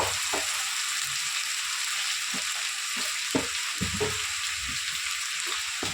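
Onions, ginger paste and curry leaves frying in a pan, a loud, steady sizzle with scattered crackles and pops close by, no talking.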